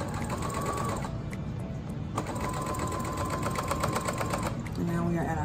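A sewing machine stitches mesh fabric in a steady, continuous mechanical hum and rattle, with the needle driving at an even pace that shifts slightly near the end.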